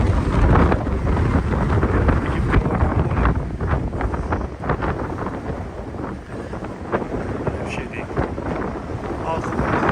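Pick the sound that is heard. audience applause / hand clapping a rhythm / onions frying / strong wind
strong wind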